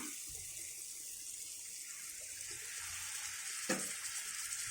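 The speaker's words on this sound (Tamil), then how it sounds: "இந்த டைமில் நம்ம வந்து தண்ணி ஒரு அரை டம்ளர் தண்ணி ஊற்றிக்கலாம்" Half a tumbler of water pours into a pan of egg gravy, giving a steady, fairly soft hiss and splash with no talking.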